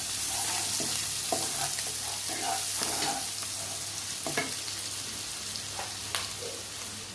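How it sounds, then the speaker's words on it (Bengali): Chopped onion and green chilli sizzle steadily as they are lightly fried in a pan for egg chow mein, with occasional scrapes and clinks of stirring. "এরপর এই 3টে জিনিস হালকা করে একটু ভেজে নেওয়া হবে"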